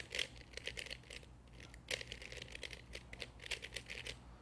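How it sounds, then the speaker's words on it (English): Playing cards are false shuffled by hand, giving quiet, crisp clicking and riffling bursts that come in uneven clusters, close and soft, with no talking. "This is probably my favorite false shuffle."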